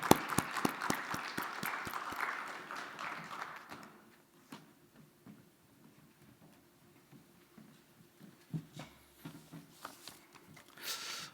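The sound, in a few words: applause for the mayor coming forward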